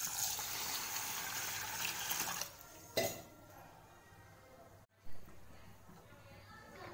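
Water sloshes and pours while moong dal and rice are rinsed in a bowl for venpongal, a steady close splashing that cuts off, followed by a brief slosh, under a quieter stretch.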